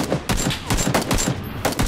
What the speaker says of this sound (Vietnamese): Ôi mẹ sao nó lại bắn tôi hả?